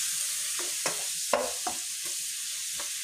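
Pork sautés in a hot pan with a constant close hiss, broken by a few soft scrapes and taps of a stirring utensil.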